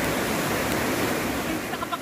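A swollen flood torrent rushes down Mount Banahaw in a loud, continuous broadband roar close at hand, with a faint hint of voice toward the end.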